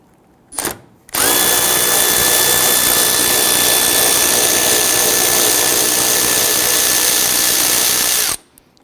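A power tool fitted with a deep socket loosens a 10mm bolt on a 2011-2023 Dodge Charger front bumper cover, one loud steady whine running about seven seconds after a brief short burst.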